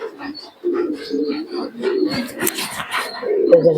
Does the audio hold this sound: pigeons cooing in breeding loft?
yes